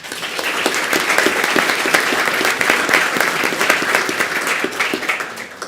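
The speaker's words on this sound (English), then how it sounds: "we will recognize him with a round of applause" An audience at a school board meeting claps steadily, a dense round of applause holding at an even level throughout.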